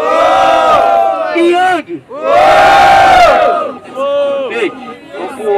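A loud crowd roars and shouts in bursts, with an announcer yelling in Portuguese over the cheering at a rowdy rap battle in São Gonçalo, Brazil.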